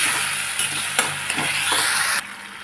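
Sauce cooks with sweet corn kernels in a pan for corn manchurian, a steady close sizzle broken by a few sharp scrapes and knocks of the spoon as it is stirred, no voices.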